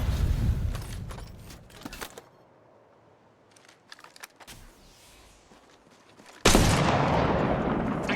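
Gunfire in Apex Legends: a few sharp shots early, scattered quieter cracks in a lull, then a sudden loud sustained burst of fire to the end.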